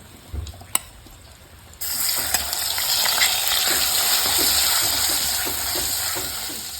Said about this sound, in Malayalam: ഇനി ഇതിലേക്ക് നമ്മൾ ഈ ലിവറൊന്ന് ഇട്ട് കൊടുക്കാം